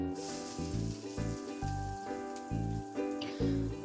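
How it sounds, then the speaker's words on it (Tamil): Small shallots, fenugreek and mustard seeds frying in hot oil for a Tamil pepper kuzhambu, a steady close sizzle with bursts of popping and crackling throughout. "இது ரெண்டும் நல்லா பொரிஞ்சதுக்கப்புறமா நம்ம சின்ன வெங்காயம் ஆட் பண்ணிக்கலாம்."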